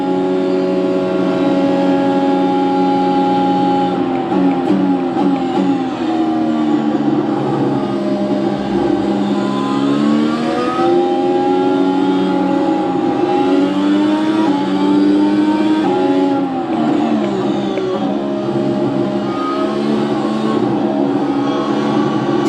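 Race car engine in an oval racing video game at Daytona: a loud, continuous drone that swells and dips in pitch as the car accelerates and eases, with no talking over it.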